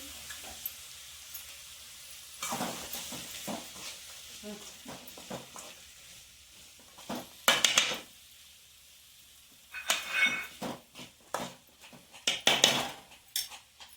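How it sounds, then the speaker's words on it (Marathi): Boiled vegetables sauté in oil in a village kitchen pot, with a soft sizzle running under repeated scrapes and clinks of a metal spoon stirring against the pan, some of them sharp and close. "सगळ्या भाज्या उकडून घेतल्या आणि तेलामध्ये परतून घेतले"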